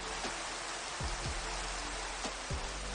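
Steady rain hisses across a rainy area of a video game set in Egypt, broadband and constant throughout, with a few low thuds breaking through underneath.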